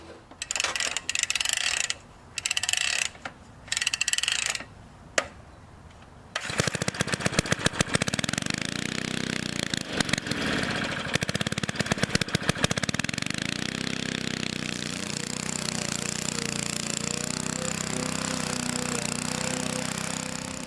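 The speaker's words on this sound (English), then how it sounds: "This log lifter, up and down hydraulically, and you can also adjust this wedge." Hydraulic log lifter on a log splitter moving up and down, a few short engine-driven bursts at first, then a sustained mechanical drone with clattering and a shifting hydraulic groan, close and fairly loud without talk.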